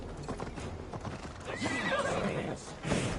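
Horse neighing and galloping hooves in Assassin's Creed Valhalla, a whinny rising over steady clip-clop under game sound effects, close and fairly loud.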